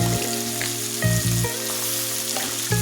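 Winter potatoes sizzling loudly in a pan with rohu fish, a dense close frying hiss with occasional stirring knocks, no voices.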